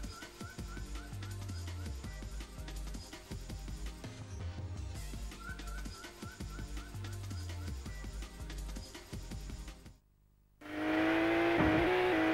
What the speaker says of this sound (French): Première simulation réussie de course de voiture sur Nintendo 64